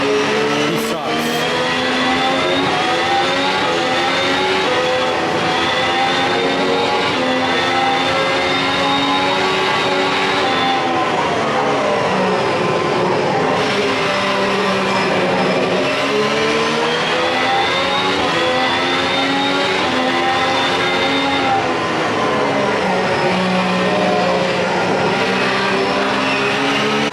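A race car engine in a racing simulator game revs loudly and continuously for the whole stretch, its pitch climbing and dropping through gear changes and corners.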